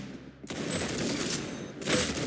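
Gunfire from a shooter session, a dense burst of sharp reports starting abruptly after a short quiet lead-in, steady and loud throughout, with a second strong crack near the end.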